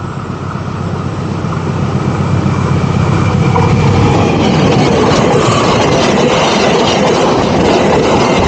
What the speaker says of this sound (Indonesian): Kita coba di kereta yang melintas sebentar lagi.